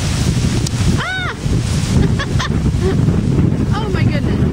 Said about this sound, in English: Is that ever windy?